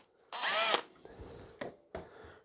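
A power drill fitted with a 2 mm bit runs in one loud, steady whine for about half a second, followed by a few softer clicks and knocks from handling.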